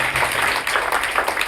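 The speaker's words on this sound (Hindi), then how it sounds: "तालियां बजाइए।" An audience claps together at a devotional gathering with a guru, a dense, steady patter of applause filling the short moment at a moderate distance.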